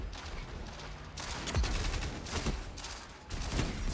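A trace rifle fires in the video game Destiny, producing a sustained, crackling stream of energy gunfire in several bursts that rise and fall, loud and close, over game ambience.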